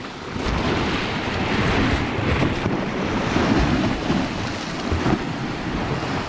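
Ocean waves wash and splash steadily onto Phala Beach in Ban Chang, Rayong, Thailand, a continuous close surf roar mixed with gusty wind buffeting the microphone and no voices.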